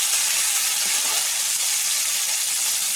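Hot oil sizzles and spatters in a pan just after tomato goes in, a loud, steady, hissing wash with no pauses and no talking.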